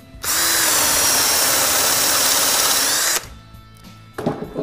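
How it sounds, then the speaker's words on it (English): Power drill boring into a 4x4 held in a bench jaw clamp, one loud continuous whine lasting about three seconds before cutting off, followed by quiet handling clatter. "We need to drill into this."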